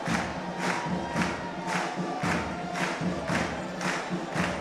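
A festival crowd applauds and cheers rhythmically for the mulassa dancing and turning in the town square, with pulsing surges of clapping roughly every half second.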